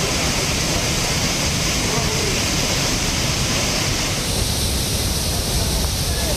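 Courtallam's main falls, flooded after heavy rain with water pouring over the safety arch, roar as a loud, dense, unbroken rush of water close by.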